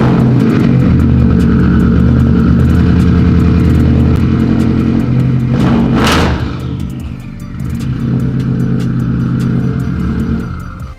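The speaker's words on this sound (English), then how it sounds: "I think that calls for a cold start" A Subaru Legacy GT with its mufflers removed cold-starts into a loud, raw, rumbling idle. There is a sharp rev flare midway, then a steady heavy drone close by.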